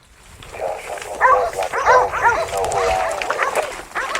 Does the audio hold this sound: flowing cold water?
no